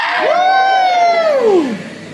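Children at a youth summer camp theatre play let out one drawn-out whoop together. It rises, holds steady, then slides down over about a second and a half, loud and close.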